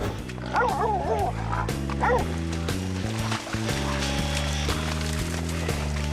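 A dog yips and barks excitedly in short bursts after a hog is caught on a hunt, a few high whimpering yelps standing out over a steady background of music.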